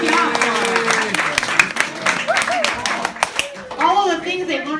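An audience at a bird show claps for a performing parrot, a dense burst of applause that fades out partway through, with a voice speaking over and after it.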